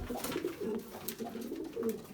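Turkish tumbler play pigeons coo repeatedly, low throaty phrases rising and falling in a steady rhythm close at hand, with no voices.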